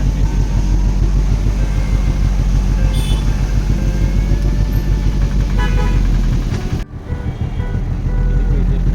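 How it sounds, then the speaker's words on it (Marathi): A few horn toots sound faintly amid loud, steady rumble of a traffic jam, with the engine noise continuing throughout. "ट्रॅफिकच ट्रॅफिक आहे सगळं जाम"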